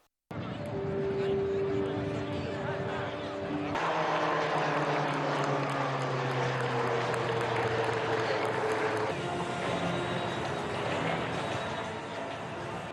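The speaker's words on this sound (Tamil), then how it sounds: "the pilot is now pulling up and shall continue the barrel roll" A military aircraft performs a barrel roll over the Marina shoreline at the Chennai air show, its engines giving a loud, sustained roar with a tone that slowly shifts in pitch as it pulls up.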